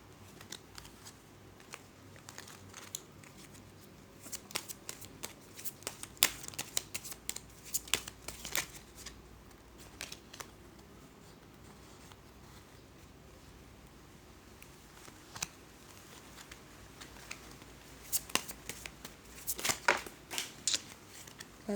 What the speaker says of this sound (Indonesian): Kartunya jatuh terus.